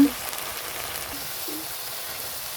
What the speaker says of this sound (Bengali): মশলাটা দিয়ে ভালোভাবে কষিয়ে নিব